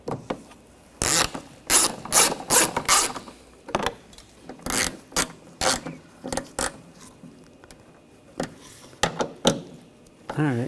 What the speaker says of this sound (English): Now we can put the screws in. I'm going to get them all started first and then we'll snug those down.